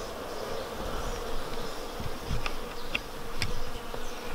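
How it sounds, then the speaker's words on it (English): A swarm of bees buzzes around a tree, a continuous close droning hum with individual bees passing near, and no voices. "attracted a whole swarm of bees"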